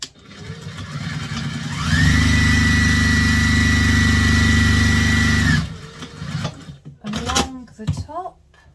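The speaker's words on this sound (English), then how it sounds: "you are going to sew them" A sewing machine stitches bag lining pieces in one steady motor-driven run of a few seconds, loud and close, then stops and a voice speaks.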